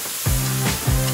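Skin frying in a pan, giving a steady close sizzling hiss that runs throughout, overlaid by a few short tonal bursts, with no one talking.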